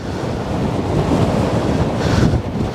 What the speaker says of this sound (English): the wind is definitely coming from that direction that we're looking at right now.